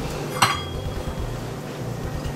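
Seasoned chicken drumsticks go into a pot for a creamy chicken stew, with a sharp clank of metal near the start, then quieter low rustling and a final clink, close and without speech.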